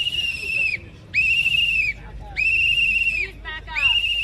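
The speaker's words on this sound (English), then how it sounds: "You blowing a whistle in people's ears" A protester blowing a whistle at a Washington street demonstration: four long, loud, shrill blasts close by with short gaps, over crowd noise and a voice.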